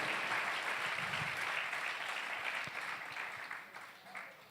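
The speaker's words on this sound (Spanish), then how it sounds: "¿Cuánto dan un fuerte aplauso al Señor?" Church congregation applauding during a worship service, a broad wash of clapping from many hands at a distance, steady then slowly tapering, with voices mixed faintly underneath.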